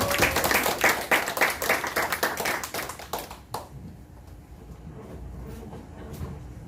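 A church congregation claps for an elder who plays guitar at a Sunday worship service, a dense run of hand claps for about three seconds that thins out and gives way to quieter room sound.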